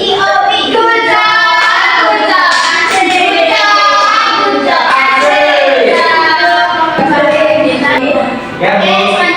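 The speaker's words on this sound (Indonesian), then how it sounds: "Kita kasih tepuk gujok dulu untuk kelompok 2" A classroom group in a Jombang school lesson performs the tepuk gujok clapping routine for group 2, loud chanted voices in unison with rhythmic hand claps woven through, close and continuous.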